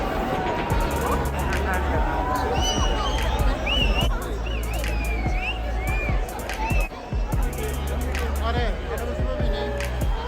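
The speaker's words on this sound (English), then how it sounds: "it's crazy crowd here" A dense crowd fills a London street at night near the London Eye while people wait for fireworks, with a constant babble of many voices, some whistles and calls rising above it.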